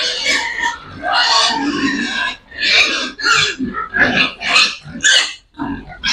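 Native pigs grunting and oinking close by in repeated bursts, with short squeals mixed in among the rough, overlapping calls.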